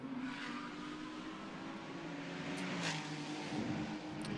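A Ferrari 296 GT race car with a 2.9-litre V6 climbs San Francisco Hill during FIA GT World Cup qualifying at Macau, its engine a faint, steady distant drone with a slight rising pitch.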